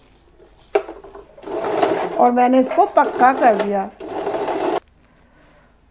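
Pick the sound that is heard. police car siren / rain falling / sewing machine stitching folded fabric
sewing machine stitching folded fabric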